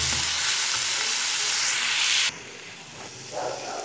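Ginger and turmeric stirred into a chicken filling for savory crêpes, a loud, steady scraping sizzle for about two seconds that suddenly drops to a quieter hiss with faint scraping.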